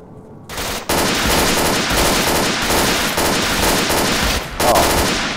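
Automatic gunfire from S.T.A.L.K.E.R. Oblivion Lost blasts in a rapid, loud, sustained burst after a short quiet start, the dense rattle of shots continuing almost without pause through to the end.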